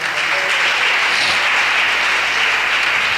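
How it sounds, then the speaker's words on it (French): A church congregation applauds at a Sunday service, steady dense clapping that fills the room throughout at full volume, with no clear voices over it. "Is it a good place to clap?"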